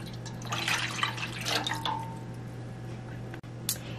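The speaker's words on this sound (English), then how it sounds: "And we are gonna add our coconut milk." Coconut milk pours into a pot while arroz con dulce is cooked, a steady close liquid stream for about two seconds that thins to faint drips and ends with a brief clink.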